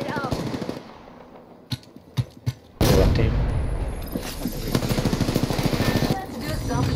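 Gunfire in the Apex Legends video game: a few sharp single shots, then a dense burst of rapid automatic fire with rattling impacts, loud and close, with game voice lines around it.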